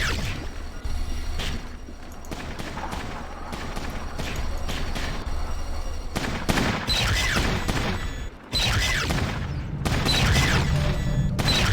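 Rapid bursts of 5.56 rifle fire in Fallout Tactics, loud crackling volleys repeating through the stretch with a brief dropout before more shots resume.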